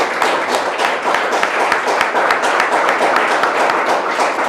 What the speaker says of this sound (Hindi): आइए हम परमेश्वर को धन्यवाद देंगे ताली बजाकर।